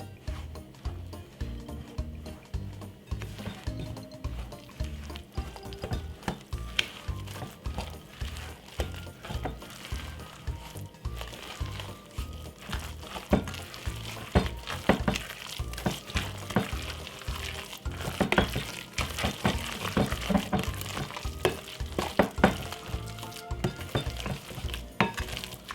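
Christmas pudding ingredients are stirred in a bowl, with repeated rhythmic scraping and clinking of a spoon against the bowl that runs steadily and grows busier toward the end.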